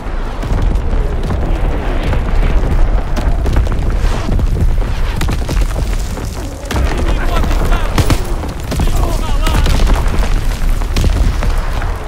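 Heavy booms and rumbling blasts from an artillery strike in the Call of Duty video game, loud and continuous, layered with scattered gunfire and battlefield noise.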